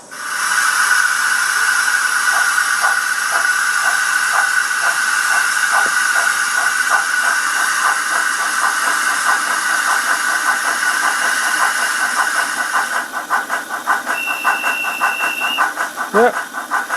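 Trix Märklin BR44 model steam locomotive with a DCC sound upgrade gives off a loud, steady hiss with rhythmic chuffing pulses, then a brief whistle near the end.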